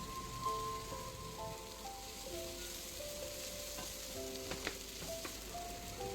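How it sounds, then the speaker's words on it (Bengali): Chopped capsicum and green chillies fry in a pan for a cauliflower Manchurian, giving a soft continuous sizzle with faint spoon taps and clicks near the end. "অ্যাড করলাম ক্যাপসিকাম কুচি এবার একটু ভেজে নিলাম এবার দিলাম তিন চারটে মতো কাঁচা লঙ্কা কুচি"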